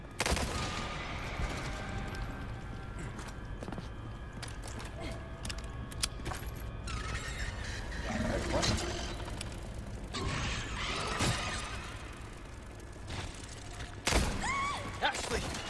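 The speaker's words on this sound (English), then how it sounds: "I just shot Ashley in the fucking face, dude" Gunfire from the Resident Evil 4 remake amid dense game noise: mechanical clanks and creaks, several sharp shots, with someone talking over the mix.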